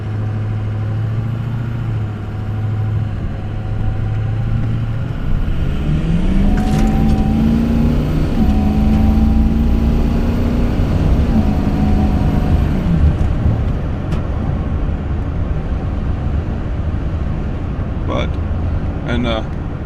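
A truck engine idles and hums steadily, with a person talking over it and a whining tone rising and falling partway through.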